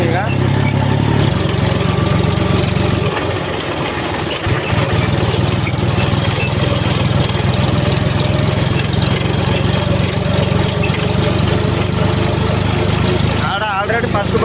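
A tractor engine runs loud and close for the whole stretch, a steady low rumble that dips briefly partway through, with a voice talking over it on a village dirt-hauling run.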